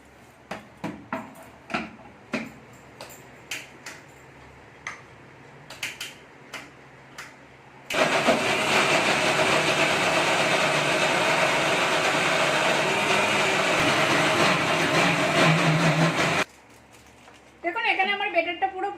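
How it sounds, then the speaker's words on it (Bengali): An electric mixer grinder whirs loudly and steadily for about eight seconds while blending semolina batter with oil, preceded by scattered clicks and taps and followed by a brief voice. "আমি এটাকে ভালো করে মিক্সারে ঘুরিয়ে নেবো"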